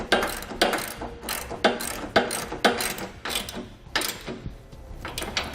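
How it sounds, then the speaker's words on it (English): A ratchet wrench with a 22mm socket tightens lock nuts on a Yakima EasyRider Double Decker bike trailer, producing repeated close bursts of rapid clicking in an uneven rhythm of strokes. "we'll snug these down with a 21mm wrench and a 22mm socket"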